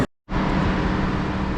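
After a brief silence, a loud, steady mechanical hum from an idling Class 156 train's engine and compressor sets in and continues unchanged.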